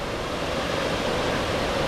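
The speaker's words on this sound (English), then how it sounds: "Beautiful mist shooting off. A gorgeous waterfall." Rushing waterfall at Sulphur Creek Falls throwing off mist, heard as a loud, steady broadband roar of falling water with no pauses.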